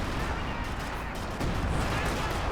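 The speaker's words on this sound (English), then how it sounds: "Got the Major Artillery come down. The phosphorus shells hitting." Artillery shells loaded with phosphorus burst in a real-time strategy battle between American and German factions, a dense continuous rumble of blasts and gunfire filling the whole stretch at steady loudness.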